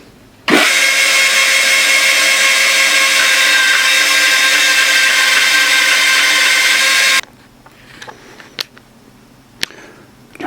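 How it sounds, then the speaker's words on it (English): A bandsaw cutting old stage floorboards from Rock City: a loud, steady whine of the blade biting through the wood for about seven seconds, then the cut ends and a few quiet clicks and knocks follow. "This bandsaw is not the best bit of kit in the world, but it does do the job."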